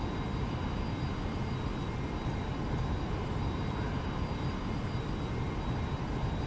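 A simulated airplane engine in the X-Plane 11 flight simulator game, a steady broadband drone with a constant faint whine and no speech, moderately quiet throughout.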